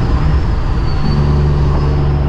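A semi truck hauling a trailer pulls away, its diesel engine a loud, close, steady low rumble with a faint whine above it.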